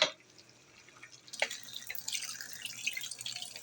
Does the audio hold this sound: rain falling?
no